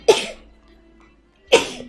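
Two sharp, explosive sneezes about a second and a half apart, close and loud, with near silence between them.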